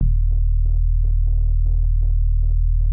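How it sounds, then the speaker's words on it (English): A steady, deep sub-bass tone from a clean sine wave hums continuously and evenly, with a faint pulsing buzz flickering above it at regular intervals. "Last thing I have here is a clean sine wave as a sub bass."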